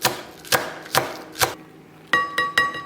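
A single spring onion being cut with a knife on a chopping board, giving clear, close, evenly spaced chops, about seven in all, that quicken toward the end, with no talking.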